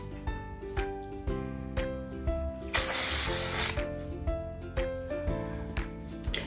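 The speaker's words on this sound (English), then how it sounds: "then you could spray it if you wanted" Texture spray hisses onto curly hair with extensions in one steady burst of about a second, loud and close, while music plays underneath.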